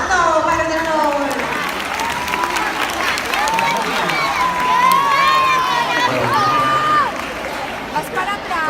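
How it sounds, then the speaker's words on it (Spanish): A crowd at a school charity campaign event claps and cheers loudly, with shouting voices and children's yells rising over the continuous applause. "¡Un aplauso para el ordenador!"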